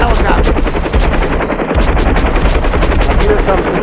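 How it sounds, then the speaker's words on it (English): Rapid machine-gun fire rattles nonstop in a video game as a helicopter is shot down, loud and dense bursts under a low rotor rumble. "Shoot down that helicopter."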